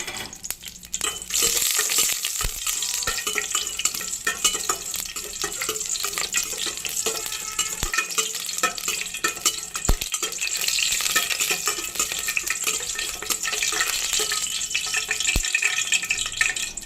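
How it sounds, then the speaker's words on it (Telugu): Cloves, cinnamon and cardamom fry in a pan with a steady, broad sizzle and occasional stirring knocks, continuous and close throughout. "లవంగ, పట్ట, యాలక్కాయ వేస్తున్నాను"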